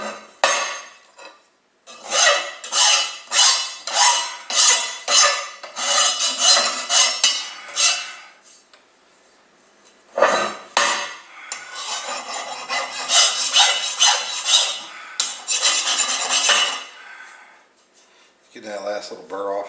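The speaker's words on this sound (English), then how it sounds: "Get that last little burr off of there." A file rasps a burr off a steel welding table part in repeated rhythmic strokes, two runs of scraping separated by a pause, close and fairly loud.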